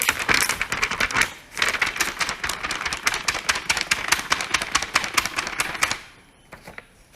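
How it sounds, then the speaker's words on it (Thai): A sheet of paper is flicked repeatedly in quick succession, producing a dense run of crisp snapping rustles that stops abruptly near the end, leaving faint quiet. "อันนี้คือวิธีการสะบัดกระดาษนะคะ"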